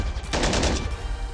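An M2HB heavy machine gun fires in the Call to Arms game, a short loud burst of rapid rounds lasting about half a second, then dying away.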